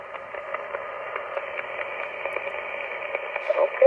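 Amateur radio net heard through a receiver with noise blanker and QRM eliminator switched on, a steady band of hiss and faint, muffled voice-like chatter, with a few crackles and a slight swell near the end.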